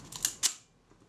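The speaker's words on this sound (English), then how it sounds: "The shutter fires." A Kodak Retina camera shutter that had been dead fires after repair, giving two sharp, close mechanical clicks in quick succession, then quiet.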